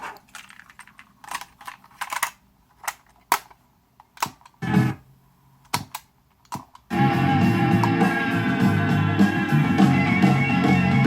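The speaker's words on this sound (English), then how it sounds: "Let's try the tape deck, see if it still works." An old Sony Walkman stereo's tape deck mechanism clicks and clunks through several sharp button presses, then the motor starts and the cassette runs with a steady loud hiss and hum.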